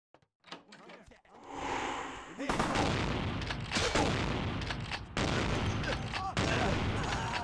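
In Vampire The Masquerade Bloodlines, a shotgun fires as loud, booming blasts amid dense game noise. The shots come in quick succession after a brief quiet start.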